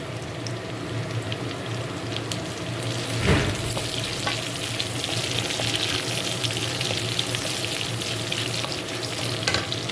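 Slit green chillies, ten to twelve of them, fry in hot oil with a steady, dense crackling sizzle that holds for the whole stretch, broken by one brief louder spatter burst partway through; no voices.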